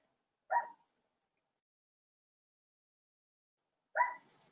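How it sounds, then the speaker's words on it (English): A dog barks twice, a single short bark each time, a few seconds apart, sounding somewhat distant against near silence. "I can hear my dog barking outside."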